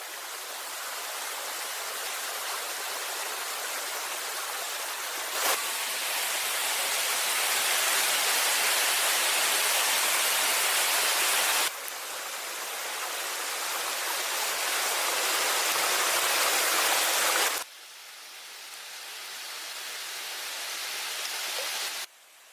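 Steady flowing water of a forest stream rushes continuously at close range, a broad hiss with a few abrupt level shifts between segments and no voices.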